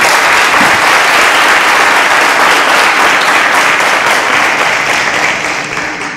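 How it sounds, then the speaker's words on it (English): Loud, dense applause from a large audience, sustained throughout and tapering slightly at the end. "a round of applause"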